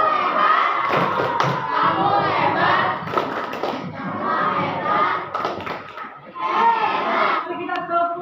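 A classroom of students performs a rhythmic clapping chant, sharp unison hand claps in bursts alongside loud shouted group voices, close and energetic throughout.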